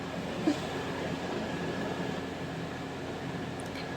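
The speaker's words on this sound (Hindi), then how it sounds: "अब आगे यहाँ पर हम किनारे की सिलाई लगाएंगे।" A sewing machine stitches along the edge of fabric for a co-ord set, giving a steady, even motor whir that runs unbroken throughout at close range, with one small knock near the start.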